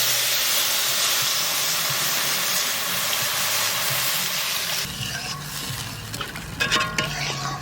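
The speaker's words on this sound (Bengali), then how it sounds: "তার জন্য আমি জল দিচ্ছি।" Water poured into a hot cooking pot in a village kitchen for papaya curry gives a loud, steady hiss of steam, then settles into bubbling and clinks, with no talking.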